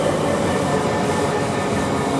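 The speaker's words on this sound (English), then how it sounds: "Now I've got a London Euston 350-116 coming in here" A Class 350 electric train bound from London Euston pulling into Milton Keynes Central, a steady close rumble of wheels and motors with faint rail clatter, alone without talk.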